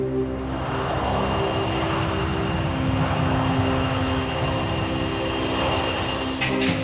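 A passenger airliner takes off on a departure for Paris, its engines roaring in a loud, steady, broadband drone that holds for several seconds with no voices.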